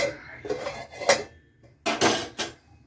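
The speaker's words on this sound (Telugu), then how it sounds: "దీని మీద మూత పెట్టేసుకోవాలి" A metal lid set down on a pot of beans being cooked for curry: several sharp clanks and scrapes in two clusters, close and clear with no talk.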